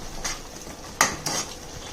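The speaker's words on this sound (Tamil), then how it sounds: "தனியாத்தூள் சேர்த்துட்டு கலக்கிக்கலாம்." A spoon scrapes and clinks against a pan while coriander powder is stirred into a bubbling tamarind curry (vatha kuzhambu), giving a few short, bright metallic strokes spaced apart over a faint background hiss.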